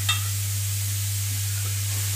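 Carrots for gajar halwa sizzle in a hot kadai as a faint, even hiss under a strong steady electrical hum, with a small clatter at the start.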